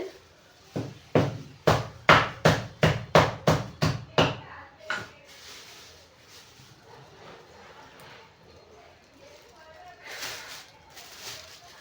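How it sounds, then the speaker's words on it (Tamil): Jaggery being broken into pieces, about a dozen sharp, evenly spaced pounding knocks close by, then softer scattered cracks and rustles. "நம்ம கொஞ்சம் வெல்லம் உடச்சி எடுத்துக்கலாம்"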